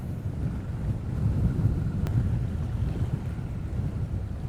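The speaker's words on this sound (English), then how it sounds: "I thought the wind was calming down a little bit, but it's not." Strong wind gusting over a small fishing boat out on Tampa Bay, a steady low roar and buffeting of the microphone with some water noise, loud and continuous with no talking.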